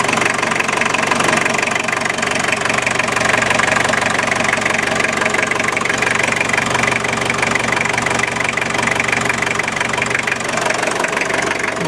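Old-school diesel engine with an injection pump idling: a loud, close, continuous clattering knock and rattle with a steady rough rhythm that runs the whole time, with no voices.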